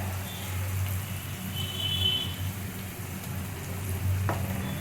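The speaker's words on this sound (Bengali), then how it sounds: "যতক্ষণ না কাঁচা আদার গন্ধটা চলে যাচ্ছে ততক্ষণ আমি ভাজতে থাকবো এটা" Ginger-garlic paste with softened salted tomato frying in a pan, a steady, fairly soft sizzle that holds evenly throughout with a low background hum and no talking.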